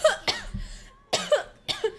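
Three sharp, close coughs come in quick bursts about half a second to a second apart, loud and dry, with brief silence between them.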